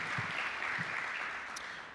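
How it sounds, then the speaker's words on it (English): Audience at a cyber insurance conference gives steady, fairly faint applause. The wash of clapping holds continuous and fades slightly toward the end. "Let's give him a better clap."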